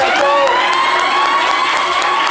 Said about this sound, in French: Merci d'applaudir Shekinah Yato.